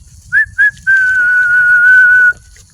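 A street preacher whistles close and clear: two short rising chirps followed by one long, steady, sustained note lasting over a second, with no talking.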